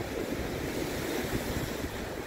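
Storm-driven waves surge and churn on a very high, fast-running river near the Peace Bridge at Crystal Beach, a dense steady roar of rushing water mixed with heavy wind buffeting the microphone.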